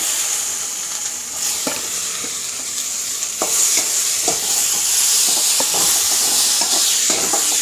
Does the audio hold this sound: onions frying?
yes